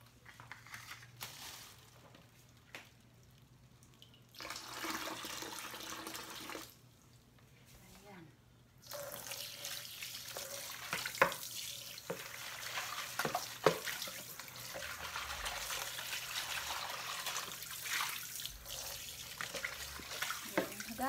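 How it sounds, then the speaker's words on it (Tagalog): Tap water runs while fish are washed for cat food. A quieter, patchy trickle and splashes give way to a steady, louder stream that continues to the end. "Hugasan ko na yung isda guys."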